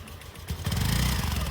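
A small scooter engine catches and settles into a steady, buzzing idle up close.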